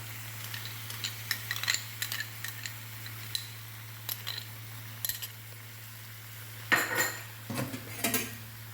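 Chicken ghee roast curry being stirred in a pot, with a spoon scraping and clinking against the metal in irregular short strokes, a louder cluster of scrapes near the end, over a low steady hum.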